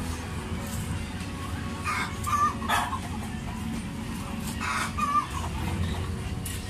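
Native chickens cluck in a rural yard, a few short clucks coming through at moderate distance over a steady low outdoor background, with no talking.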